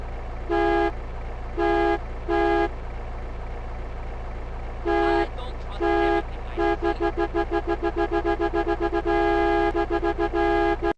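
A police car in GTA San Andreas blares a plain car horn in place of its siren, a glitch at high frame rates. It gives a few long honks, then a rapid run of short repeated toots over a low engine hum.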